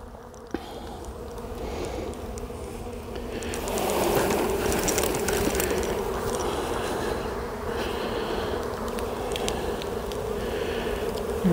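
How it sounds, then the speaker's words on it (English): A dense, loud buzz of many bees swells after a sharp knock as they are shaken off a hive frame into a box, the droning hum filling the space and staying steady and close. "There's one good shake of bees."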